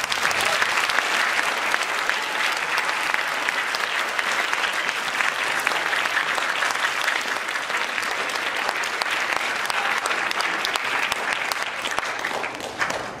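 Students in a high school audience at a district band festival applaud the wind ensemble's director with dense, continuous clapping that holds at a steady level for over ten seconds before easing off.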